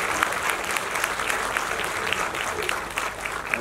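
A crowd gives loud, sustained applause for a singer at a Sangeet Manapmaan music concert, with dense rapid clapping from many hands close and continuous throughout.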